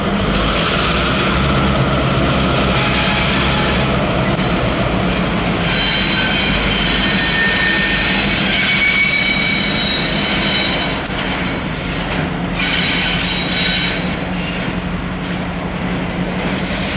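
A CSX freight train led by GP38-2 locomotive FURX 5547 rolls past Old Mill Rd, a loud continuous rumble of railcars with squealing wheels and steady clatter, close by and without talk.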